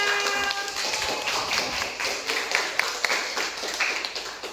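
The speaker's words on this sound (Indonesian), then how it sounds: "Oke, tepuk tangan untuk Gaza" A classroom group clapping hands in applause, a rapid irregular patter of many claps lasting several seconds at moderate volume, with a faint voice near the start.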